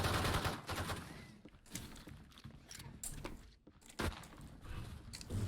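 Bursts of rapid Frenzy pistol fire in the Valorant video game, fairly faint, with clustered shots separated by short gaps and a louder burst toward the end.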